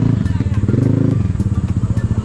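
Vespa GTS 300 Super Sport scooter riding along, its engine a steady, close low drone with a rhythmic pulsing throb, fairly loud and continuous, with faint voices and wind noise mixed underneath.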